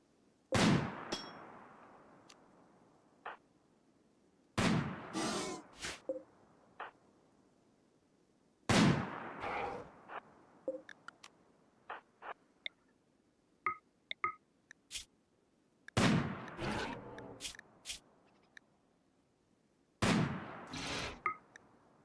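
Sniper rifle shots in the RimWorld video game ring out as sharp, loud cracks with metallic decaying tails, spaced roughly every four seconds, with scattered lighter clicks and pops between them and no voices.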